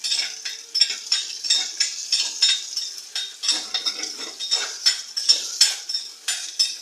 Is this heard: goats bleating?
no